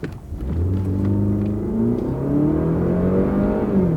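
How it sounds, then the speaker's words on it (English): A car's Ecotec engine with a 6-speed transmission revs up smoothly from inside the cabin, pitch climbing steadily, dropping briefly as a gear shifts, then rising again. "let's see what this Ecotec engine with a 6-speed transmission can do"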